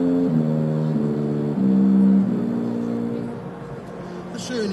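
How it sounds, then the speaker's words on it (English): A tuba plays a slurred line of low notes, smoothly connected pitches stepping up and down in a warm, steady tone, close and moderately loud. "On the tuba, it'll sound like this."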